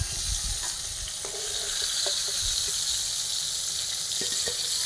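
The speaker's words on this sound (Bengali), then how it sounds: "পটলগুলো আমাদের ভাজা হয়ে গেছে, খুব একটা ভাজবো না" Tender pointed gourd (potol) pieces fry in hot oil for Bengali potol posto, making a continuous close sizzle with a few light clicks and taps.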